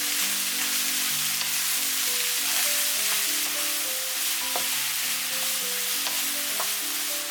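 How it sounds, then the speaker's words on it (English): Bok choy, tomato and onion stir-frying in a pan, a dense steady sizzle close by with faint occasional stirring taps, under a background of soft melodic music, no talking. "Add the bok choy, the tomato, the onion. Stir from time to time for 1 minute."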